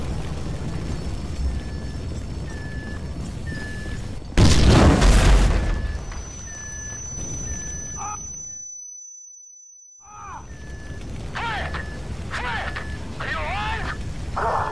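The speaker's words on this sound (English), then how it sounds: "That explosion must have knocked me out" A loud, deep explosion in GTA V bursts out for about two seconds amid game sound effects, electronic tones and voices, then the sound cuts to silence before resuming.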